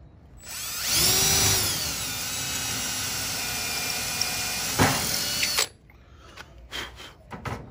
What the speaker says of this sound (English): I'm gonna drill the smaller hole first.